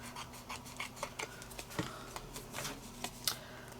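Scissors cutting around a paper notecard, a string of quiet, crisp snips and rustles close by at a steady, irregular pace.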